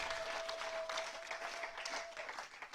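Congregation applauding in a church service, a dense wash of sustained clapping at moderate distance with a steady tone running beneath.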